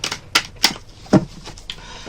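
Tarot cards are shuffled by hand in a few quick, crisp riffling bursts separated by short pauses, close and fairly quiet.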